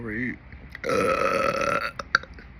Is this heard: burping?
yes